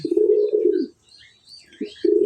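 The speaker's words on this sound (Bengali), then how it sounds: "দেখেন কীভাবে ডাকাডাকি করে নরটা, অনেক খেপা একটা নর।" A fierce male pigeon coos close by in deep, throaty rolling calls, a long one followed by a pause and then shorter bursts, with faint bird chirps in the background.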